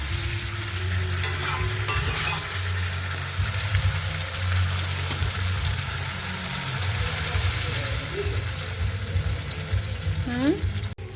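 Spice paste for a katla fish curry with yellow cauliflower fries in oil and is stirred every few seconds, with a steady close sizzle and scraping under a low hum, and a voice speaks briefly.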